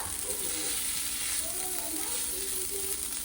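Noodles with egg, peas, capsicum and onion frying in a home kitchen pan make a steady, close sizzle, with faint stirring and a voice murmuring softly underneath.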